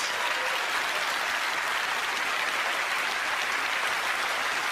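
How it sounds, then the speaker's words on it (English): A theatre audience at a comedy magic show applauds two volunteers being called up on stage, a loud, steady wash of clapping that holds at full strength for the whole stretch with no voices over it. "Give these two people a round of applause."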